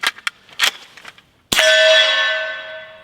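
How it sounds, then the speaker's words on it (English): A rifle magazine drops outdoors with a few light clicks of handling, then a single sharp metallic clang that rings on and fades slowly over more than a second. "Drop that mag, grab fresh mag."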